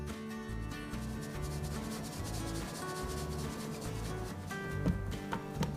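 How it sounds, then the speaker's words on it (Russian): Dry ingredients for a chocolate cake being sifted through a sieve, a steady soft rubbing and shaking rasp that continues evenly throughout at close range, with no talking. "Теперь вводим сухие ингредиенты. Я предпочитаю их просеивать."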